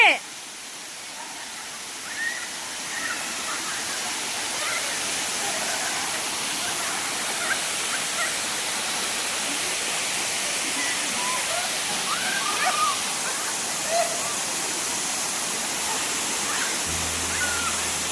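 A steady, full roar of a forest waterfall rushes continuously and evenly, loud and close, with no pauses.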